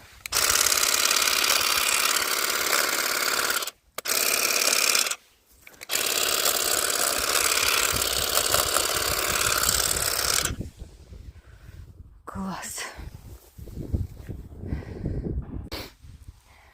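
A string trimmer used for lawn care runs with a new attachment fitted, its loud, steady engine whine droning for about ten seconds with two brief cutouts, then dropping to quieter, intermittent revving and clattering.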